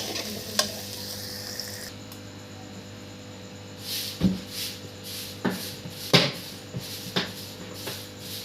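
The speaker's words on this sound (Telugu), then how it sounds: "గోల్డ్ కలర్ వచ్చేదాకా వేపుకోవాలండి పన్నీర్ ముక్కల్ని. బట్టరు అడుగంటకుండా కళాయికి తిప్పుకుంటూ ఉండాలండి." Paneer cubes sizzle in butter in a kadai, a steady frying crackle with a spoon scraping and stirring the pan several times, close up, no voices.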